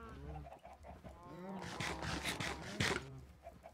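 Chickens clucking in the Minecraft video game, a few soft repeated clucks near the listener over a low steady hum, with a brighter squawk late in the clip.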